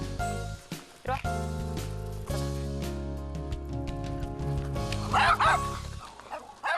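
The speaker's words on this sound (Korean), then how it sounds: "뒤따르던 제작진을 향해 짖기 시작하는" A leashed dog on a walk barks at the film crew following behind, giving a few sharp yips and barks over background music, with voices nearby.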